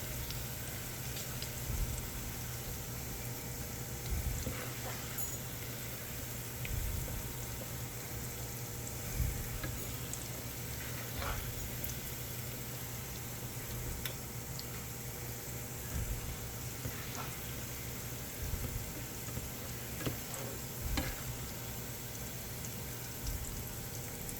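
Venison liver frying in a pan over medium heat, a faint, continuous sizzle with soft popping crackles scattered throughout, heard alone without speech.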